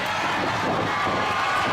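At a Future Stars of Wrestling event, an arena crowd cheers and shouts loudly and continuously, a dense unbroken roar filling the short moment.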